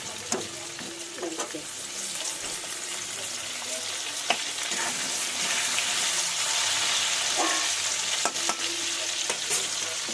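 Potatoes with salt and turmeric being stirred and fried in a pan, a steady close sizzle with scraping stir strokes and occasional clinks throughout, with no one talking.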